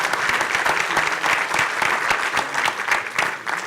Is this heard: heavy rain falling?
no